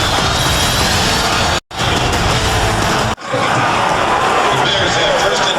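A roaring stadium crowd at a Tampa Bay Buccaneers at Chicago Bears NFL game swells loudly as Warren Sapp works the fans, a dense continuous wash broken by two brief dropouts.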